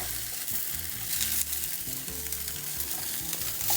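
Bacon sizzles and crackles loudly on a barbecue grill, a dense, continuous frying hiss with a low rumble beneath, and no voices.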